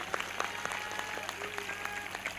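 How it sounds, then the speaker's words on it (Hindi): A congregation claps together at an Easter celebration meeting, sharp rhythmic claps over a steady hum of background noise, loud and sustained. "इस भविष्यवाणी के पूरा होने के लिए जोरदार ताली बजाएंगे।"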